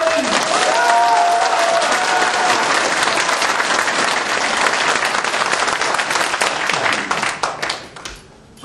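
At a Grand National Party joint campaign rally in Daegu and Gyeongbuk, a large crowd claps loudly and steadily for several seconds, and the applause thins out and trails off at the end.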